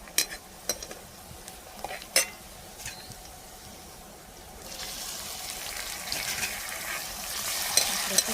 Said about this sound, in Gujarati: હવે આપણી ડુંગળી તળી ગઈ છે તો હવે આપણે ઝીણું સુધારેલું ટમેટું એડ કરી દઈશું